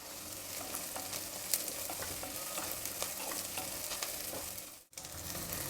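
Onions and curry leaves sizzle and crackle steadily while frying in a pan, a continuous bright hiss with occasional stirring clinks, close and fairly loud with no talking, cut by a brief dip near the end.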